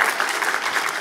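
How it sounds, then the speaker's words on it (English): Dense, steady clapping from a conference audience at the 39th NCSC, filling the whole brief moment at an even level. "You're all clapping."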